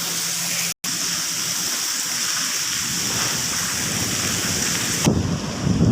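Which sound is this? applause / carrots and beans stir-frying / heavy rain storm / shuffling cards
heavy rain storm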